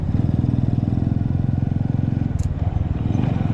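A smoky Honda Wave 100 motorcycle engine idles steadily up close with a fast, even putter, a brief metallic tick partway through.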